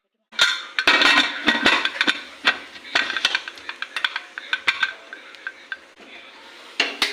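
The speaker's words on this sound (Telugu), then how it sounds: "ఇప్పుడు కుక్కర్ మూత పెడుతుంది." A pressure cooker lid is fitted and closed, a series of sharp metallic clinks and clacks in irregular bursts, close and fairly loud, with no talk.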